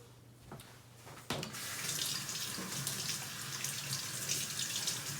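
Kitchen tap water is turned on to wet a cake scraper, starting after a couple of soft clicks and then running as a steady, close splashing stream.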